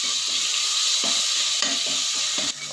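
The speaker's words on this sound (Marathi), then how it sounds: "जिरी मोहरी करताना इथे त्याच्यात कढीपत्ता टाकायचा, थोडंसं हिंग आणि आलं लसूण पेस्ट" Cumin and mustard seeds sizzle in hot oil with curry leaves, a pinch of asafoetida and ginger-garlic paste for a sprouted moth bean curry. The bright, steady hiss runs throughout, with a few soft stirring scrapes.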